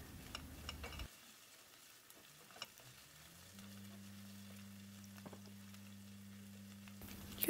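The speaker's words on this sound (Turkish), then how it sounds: "Evet, karıştıralım. Kavurma işlemine devam edelim." Soft sizzling of frozen okra sautéing in a pot, with occasional scrapes and taps of a spoon stirring, over a low steady hum.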